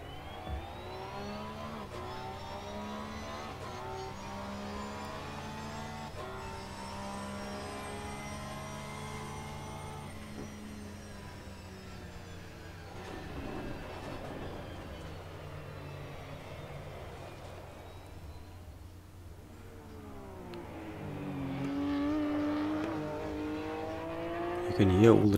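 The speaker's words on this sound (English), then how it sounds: "You can hear all the track sounds as you're hitting the edge of the tracks." Race car in a racing simulator game, engine droning and shifting pitch as it laps, with rumbling bursts as the wheels run over track edges and kerbs, steady and moderately loud.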